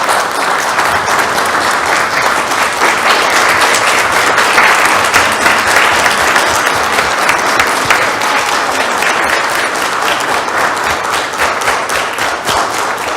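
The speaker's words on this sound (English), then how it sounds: "Can we please clap it up for these incredible educators?" Loud, sustained applause from a city council meeting audience honoring local educators, dense continuous clapping close and even throughout.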